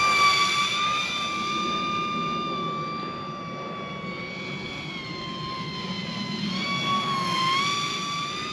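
A small DIY foam-board RC plane under 250 g flies overhead with a steady, aggressive motor whine whose pitch shifts as it passes, moderately loud, with gusty wind and no talking.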